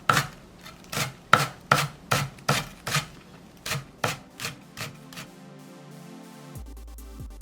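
A knife chops half a green onion stalk into small pieces on a cutting board, about a dozen crisp, close, rhythmic cuts that slow and stop, followed by quiet.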